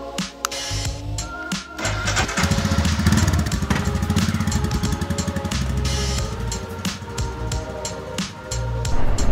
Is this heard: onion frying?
no